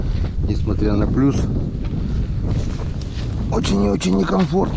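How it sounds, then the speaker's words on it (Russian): Wind gusting during winter fishing on the Pechora river in snowy weather, a steady rough roar buffeting the microphone throughout while someone talks over it. "Ветер поднялся еще."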